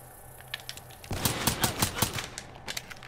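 Rapid bursts of Call of Duty: Black Ops III gunfire crackle in quick succession, sharp repeated shots that start after a quiet moment and fade toward the end.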